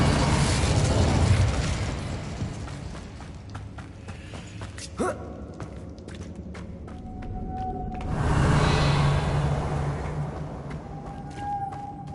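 Spell blasts from a fire spell in Hogwarts Legacy: a sharp pop near five seconds among a dense, roaring game soundscape, with a louder whooshing burst swelling around eight seconds and fading out.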